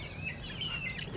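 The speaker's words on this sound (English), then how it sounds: "Gloria has a weird cluck" A backyard hen named Gloria giving her odd, weird cluck, a short warbling call with wavering pitch, heard close and fairly soft over a low background rumble.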